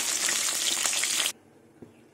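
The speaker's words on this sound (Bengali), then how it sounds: "আর এইভাবেই সব মাছগুলো ভেজে নেব।" Silver carp pieces fry in hot oil with a dense, steady crackling sizzle that cuts off abruptly partway through, leaving near silence and one small knock.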